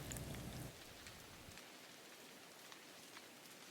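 Rain falls steadily through a forest, a soft even hiss of drops with a slightly louder patter at the start, alone and gentle.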